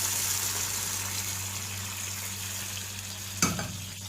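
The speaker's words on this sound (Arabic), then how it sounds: "كده يا بنات بالشكل ده الشوربه بتغلي معانا اهي" Vegetable soup simmering in a covered pot, a steady close bubbling and sizzling hiss with a low electrical hum underneath and one brief clatter near the end; no one speaks.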